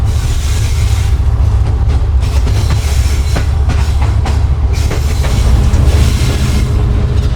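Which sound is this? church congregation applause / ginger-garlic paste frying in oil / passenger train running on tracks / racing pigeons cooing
passenger train running on tracks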